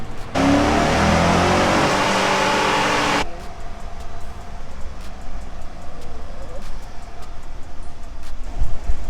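A Chevy Tahoe V8 fitted with headers and a new exhaust screams at high revs on a dyno for about three seconds, then cuts off sharply to a low rumble and shop noise.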